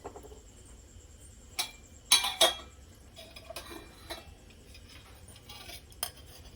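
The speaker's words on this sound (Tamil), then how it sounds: "கடாய் வச்சுட்டு எண்ணெய் ஊற்றலாம்." A wok is set down on a home stove and oil is poured in while making chola poori, giving sparse metallic clinks and knocks with one cluster of louder clatter amid quiet.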